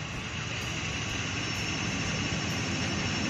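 An electric bike motor, fitted with an upgraded controller, spins at full speed with no load, giving a steady, loud, continuous whine and rushing hum that holds even throughout.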